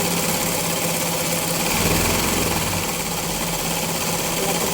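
Sewing machine stitching a lined blouse, a loud, continuous close-up motor hum and rapid needle chatter running steadily without pause.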